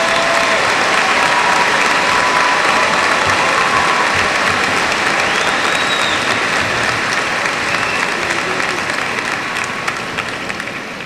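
Sustained, dense applause from a large graduation audience honoring the top 5% of the 2002 class, loud and steady throughout and easing slightly at the end.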